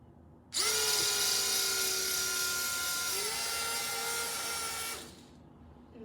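A small toy flying saucer's motor gives a steady, high-pitched whir that starts abruptly, holds an even buzzing tone for about four seconds, then cuts off, with no voices.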